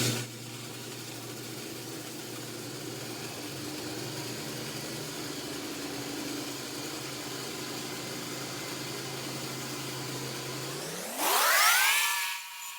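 A worktable sawmill slices through the top of a cherry log, a steady loud whirring drone holding for about eleven seconds before the pitch climbs sharply as the blade exits the cut.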